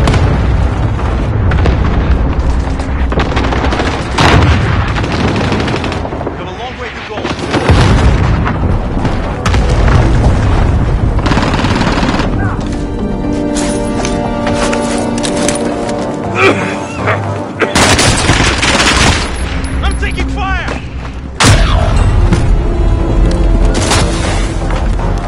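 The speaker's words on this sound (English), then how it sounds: "Cluster strike away." Cluster strike explosions and gunfire in a military game setting: repeated heavy booms and rumbling blasts roll through loud and close, mixed with cracks of gunfire and brief radio-style voices.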